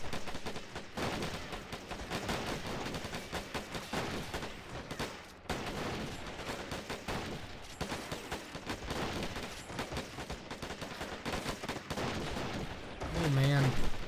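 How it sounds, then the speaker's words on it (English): Dense, continuous battle gunfire in the Men of War Star Wars mod, with Tusken Raiders firing: overlapping rifle shots and bursts form a steady loud wall of shooting with scattered explosions throughout. "Lots of fire coming out from the Tusken Raiders here."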